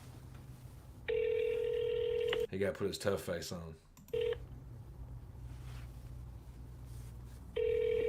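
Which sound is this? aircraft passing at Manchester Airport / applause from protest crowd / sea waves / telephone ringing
telephone ringing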